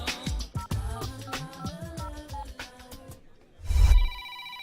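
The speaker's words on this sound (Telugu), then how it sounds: "మోగుతున్న ఫోన్ ఎత్తావు గాని నువ్వు ఎత్తుకో" A telephone ringtone plays in a Telugu film scene, repeated melodic electronic rings in quick succession, loud and close, ending in a low thud and a lingering tone, with no speech.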